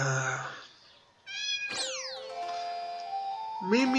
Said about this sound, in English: And there's that cat you set on fire.